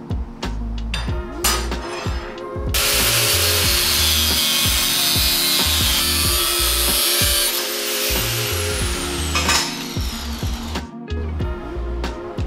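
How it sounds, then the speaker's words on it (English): A rigid belt sander grinds a forged steel marking knife in a blacksmith shop, with a loud abrasive rasp for several seconds between bouts of clunks, knocks and handling noises, close by and without speech. "I don't really want to be using a rigid belt sander for making nice pieces of blacksmith metal"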